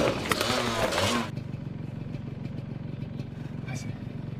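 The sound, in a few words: motorcycle passing in a film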